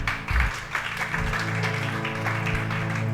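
A church congregation claps steadily in worship, the applause a continuous patter mixed with voices and a low sustained musical drone beneath, fairly close.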